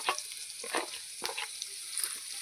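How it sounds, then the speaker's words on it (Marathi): Ginger-garlic paste fries in oil over softened onions, giving a steady, close sizzling hiss with a few brief bursts of crackle and no voices. "ती पण मस्त अशी तेलामध्ये एकजीपर्यंत भाजून घ्यायची"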